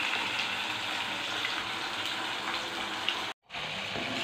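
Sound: potatoes frying in a pan

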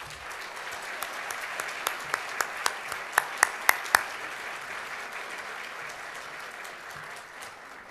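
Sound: audience applause

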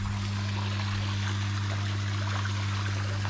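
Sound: water trickling in a garden pond cascade with pump

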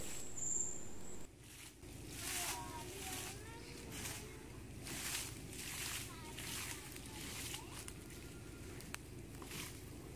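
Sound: borewell cleaning, air pushed through hose churning muddy water

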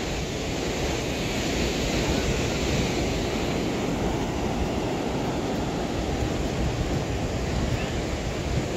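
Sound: rough sea waves at Mayaro Beach, Trinidad

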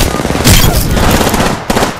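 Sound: gunfire in the video game Apex Legends

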